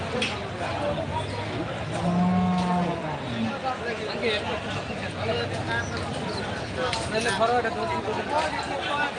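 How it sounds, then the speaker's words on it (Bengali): A cow lets out a low moo amid the constant murmur and chatter of a busy cattle market in Talgachhi, Sirajganj, with people talking throughout. "দেখুন একেবারে অত্যন্ত সুন্দর সুদর্শন গরু"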